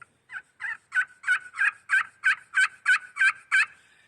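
A turkey slate call played with a striker gives a run of about eleven evenly spaced, raspy yelping notes that build in loudness and then hold steady, close and alone with no talking.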